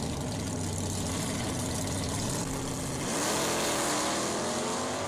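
A 1960s Chrysler Max Wedge muscle car engine, a loud close V8, rumbles at a lumpy idle and then rises into a rev partway through, with no voices.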